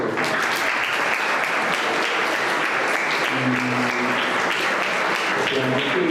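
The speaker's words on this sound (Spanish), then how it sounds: "Quisiera pedir un aplauso por Oscar, Milena, Sergio y Roberto." An audience at an education conference claps continuously and evenly throughout, a thick sustained applause with a voice briefly heard underneath midway.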